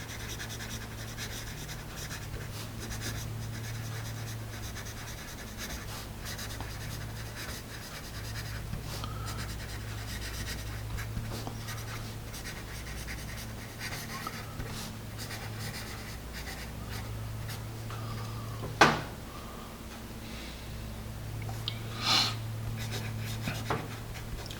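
A General's Big Boy Bowler pencil with a soft, thick hex barrel writes on paper, giving a steady, close scratching and rubbing that runs on continuously, with a couple of sharper taps near the end.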